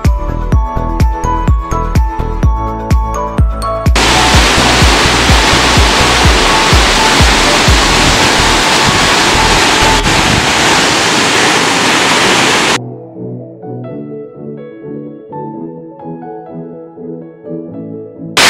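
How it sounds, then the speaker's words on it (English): A steady roar of rushing, falling water from Lisbon Falls in South Africa's Blyde River Canyon fills the middle stretch, loud and constant, with music playing before and after it. "This is another beautiful waterfall in the Blyde River Canyon."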